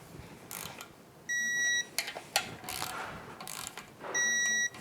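A torque wrench clicks and ratchets on the oil filler neck bolts of a Yamaha F225 outboard powerhead, with short ratchet strokes close by and two steady electronic beeps as the set torque is reached.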